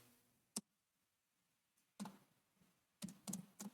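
A handful of sharp, sparse keyboard clicks, a single tap, a short burst of typing, then a quick cluster of keystrokes, faint and close in an otherwise quiet room.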